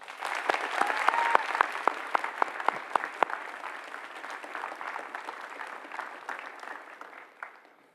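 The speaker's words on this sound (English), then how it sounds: "I would ask our graduates to join me in a round of applause for your families." Applause at a high school graduation ceremony, a crowd clapping steadily with sharp individual claps standing out, gradually thinning and fading toward the end.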